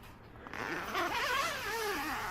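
The door zip of a Coleman Chimney Rock 3 blackout tent is pulled open in one smooth, rising rasp lasting a couple of seconds, close by with no talking.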